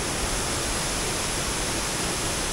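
Pinlac Falls, a waterfall in Barangay Magsaysay, gives a dense, constant roar of rushing water that fills the whole short stretch evenly, near and loud, with no breaks and no voices.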